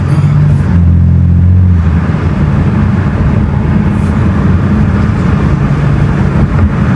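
A Ford Mustang EcoBoost on a loud exhaust rumbles heavily nearby. A short throaty surge gives way to a steady, gritty drone that fills the whole stretch without pause.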